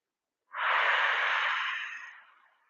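A single long, deep breath drawn and released during a slow neck stretch, close and soft, swelling quickly and tapering off gradually with no talking.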